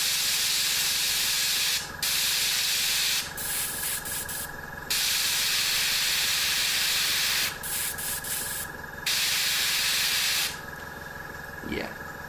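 Airbrush spraying thin coats of paint for a blue plasma glow effect, loud close hissing bursts that stop and restart several times with short pauses between.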